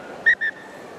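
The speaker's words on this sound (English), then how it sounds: "double blast of the referee's whistle there" A rugby referee's whistle sounds in a sharp double blast, two short bright toots in quick succession over a faint stadium background during a men's international match.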